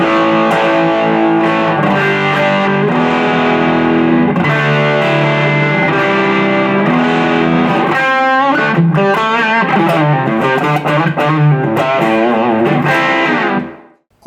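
Electric guitar played through a Yamaha THR10 amp with the gain turned to maximum, giving heavily distorted sustained chords and then faster picked notes, loud and continuous until it cuts off at the end.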